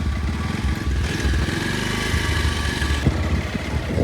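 A motorcycle engine runs close by with a low, throbbing idle, its rumble pulsing steadily and briefly rising once before settling back.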